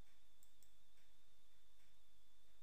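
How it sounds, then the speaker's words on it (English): A few faint, sharp mouse clicks on a computer during AutoCAD drafting work, spaced irregularly over a quiet background with a steady high tone. "I'm going to click this side."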